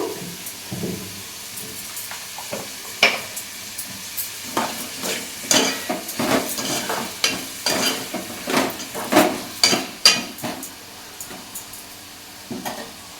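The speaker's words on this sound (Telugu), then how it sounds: "ఇదిగోండి ఉల్లిపాయ ముక్కలు వేయిపోయినాయి కదా" Onion pieces frying with turmeric and salt, a soft continuous sizzle broken by repeated scraping stirs of a spoon against the pan, close and rhythmic.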